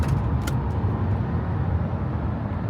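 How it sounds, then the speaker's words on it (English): A car drives across a town bridge over the Nashua River with a steady, close road and engine rumble. Tire noise runs throughout, a couple of faint clicks sound early on, and no one speaks. "I am now driving across one of the many bridges in town"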